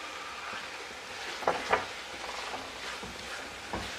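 A spoon stirs pumpkin pickle with asafoetida powder in a pan, giving a quiet steady sizzle with a few soft scraping clicks near the middle. No one speaks.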